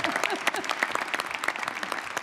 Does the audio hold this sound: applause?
yes